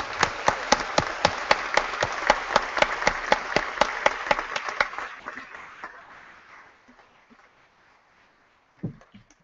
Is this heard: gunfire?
no